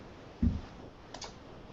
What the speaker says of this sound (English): Sorry, I was typing a response there.